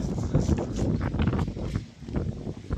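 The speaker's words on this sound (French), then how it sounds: "il y a un peu de vent" Gusty wind buffets the microphone in Portugal, a rough, rumbling rush that swells and dips throughout.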